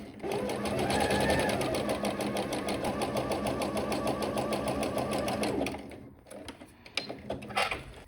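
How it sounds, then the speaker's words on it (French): A sewing machine runs a zigzag overcast stitch along a skirt seam, the needle swinging in and out of the fabric edge in a rapid steady chatter for several seconds, then stopping, followed by a few small clicks. "le point de surfil à la machine à coudre"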